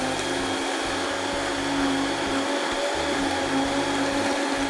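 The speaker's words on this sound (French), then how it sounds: "Notre bouillon est infusé, ça sent déjà sacrément bon. Voilà, on va le mixer." A kitchen blender purées a broth-and-stale-bread soup in one steady, loud, continuous whir that holds its pitch throughout, with no talking over it.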